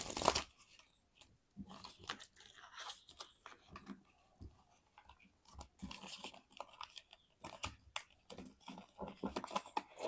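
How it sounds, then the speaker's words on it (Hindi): Soft, irregular riffling and slapping of tarot cards being shuffled by hand at close range, quiet and intermittent. "सबसे पहले मैं आपके कार्ड शफल करती हूँ"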